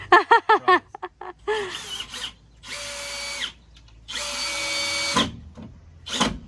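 A low-battery power drill whirs in two long bursts, each several seconds, after some short clattering knocks, with a brief final spin at the end.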